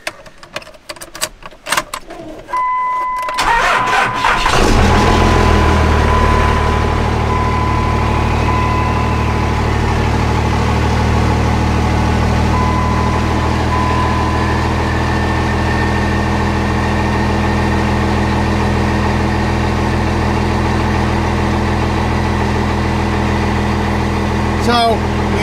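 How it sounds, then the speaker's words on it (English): A second-generation Cummins diesel engine cranks briefly and then catches, settling into a loud, steady idle that rumbles on for more than twenty seconds after a few seconds of quieter clatter. "Start this thing up"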